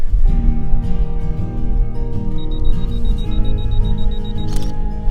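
A camera's 2-second self-timer beeps steadily before the shutter fires, set at 1/250, f9 and ISO 200, heard close over a constant low background hum with a short sharp click near the end.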